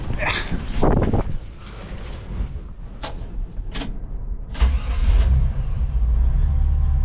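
A 1954 Chevy cabover truck engine runs after a carburetor swap, a steady low rumble under some clunks and brief knocking sounds, with swelling engine noise toward the end.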